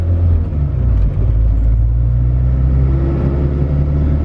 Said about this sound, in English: Give it some throttle. This is just taking off at low speed.